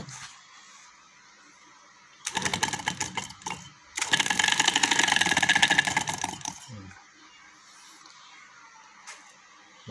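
An engine is started after fuel pump switch-on, bursts of loud mechanical rattling clatter come in two stretches, then drop back to a low idle hum.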